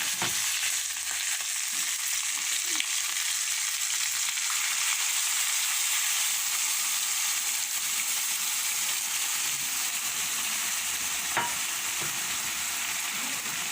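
Steady hissing sizzle of meat frying in a hot pan for adobo, constant and close, with a few faint clinks partway through.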